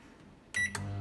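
A Smeg microwave gives a short electronic start beep when its button is pressed, a clear tone in two quick pulses followed by the low hum of the running oven.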